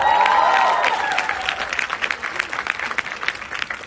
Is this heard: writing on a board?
no